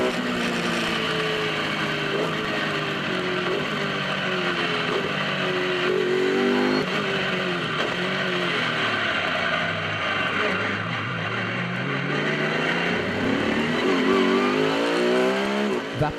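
An Aguila race car powered by a BMW M3 engine laps the track at the Omnitel 1000 Km in Lithuania, its loud engine rising and falling as it shifts gears and brakes through corners, heard continuously and nearby.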